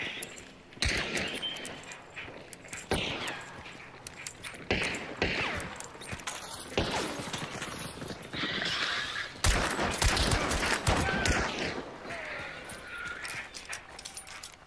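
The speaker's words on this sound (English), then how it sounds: "This is a shotgun." Shotgun blasts in the game Hunt: Showdown, several loud booming shots at irregular intervals across the clip, with voices talking between and over them.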